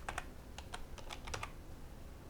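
Typing on a computer keyboard: a quick, uneven run of light, close key clicks in small bursts over a quiet room, with no speech.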